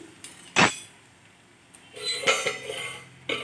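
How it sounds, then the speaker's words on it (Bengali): Metal pot lid clanks onto a pot of green tea on a switched-off gas stove in a home kitchen, one sharp clatter followed by lighter scraping clinks as it settles, close and alone. "অফ করে কিছুক্ষণের জন্য ঢাকা দিয়ে রাখবো।"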